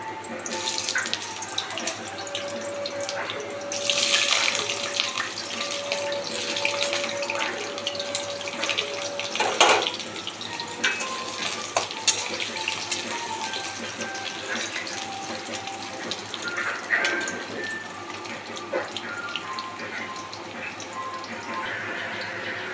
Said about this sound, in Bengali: তেলটা আমার খুব গরম হয়ে গেছে, একটু আলুগুলো ভেজে নেব।